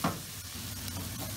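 A Lebanese kibbeh mixture with pine nuts cooks in a pan over low heat, a soft steady sizzle with a brief stirring scrape at the start.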